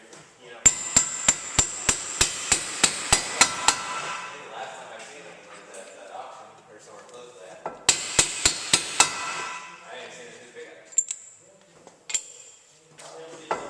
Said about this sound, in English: I'm using a hammer and tapping it through